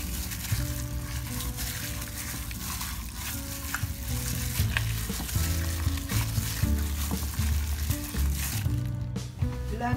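Chicken seasoned with salt and five-spice powder fries in oil in a pan while being stirred, a close sizzle under tonal background music, with clinks and scrapes of the utensil scattered through.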